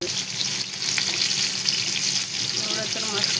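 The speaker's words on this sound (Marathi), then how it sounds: "तर बघा मी सगळे कारल्याचं मस्त आपल्याला तव्यावर टाकून घेतलेले आहेत." Pieces of bitter gourd fry on a hot tawa, giving a close, constant sizzling hiss with light crackles and no talk over it.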